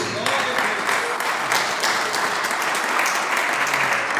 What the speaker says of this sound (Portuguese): Os irmãos podem sentar e louvar o Senhor com as palmas bem fortes para Jesus